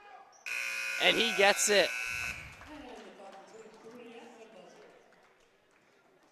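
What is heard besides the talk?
basketball game end buzzer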